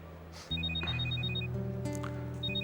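A telephone rings with a steady electronic tone, repeating in short even pulses over a humming background in a scene from a Turkish TV drama.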